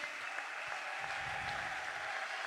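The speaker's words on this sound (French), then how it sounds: "Est-ce qu'on peut les applaudir, s'il vous plaît?" An audience at an award ceremony applauds graduating scholarship recipients, producing a soft, distant, continuous patter of clapping.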